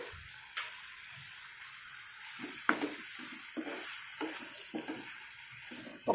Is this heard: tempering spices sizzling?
yes